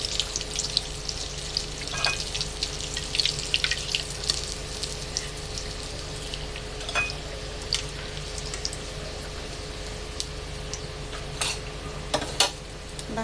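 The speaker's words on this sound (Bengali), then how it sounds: "ডুবো তেলে ভাজা হয়ে আসছে, আর একটু ভাজা হবে" Salmon fish pieces deep-frying in hot oil in a home kitchen, a steady continuous sizzle with occasional louder crackles and pops, close and even throughout with no talking.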